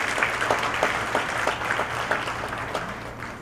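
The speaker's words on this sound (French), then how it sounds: "Pédrica, ton courage demande un applaudissement." Moderate applause from an audience at a French-language gathering on women's dignity and rights, steady clapping with a few sharper individual claps standing out, a low steady hum underneath, no talk.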